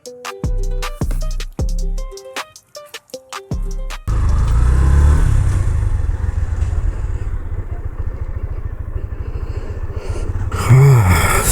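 A Yamaha FZ-S V3 motorcycle on the move, its engine droning steadily with wind rush after an opening stretch of plucked music, rising briefly near the end, close and fairly loud with no talk.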